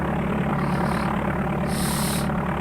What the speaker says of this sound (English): The helicopter sound.